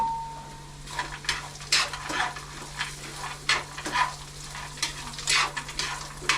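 Already roasted peanuts stirred in a pan over low flame, with repeated scraping strokes and light rattling in an irregular rhythm over a soft sizzle and a steady low hum.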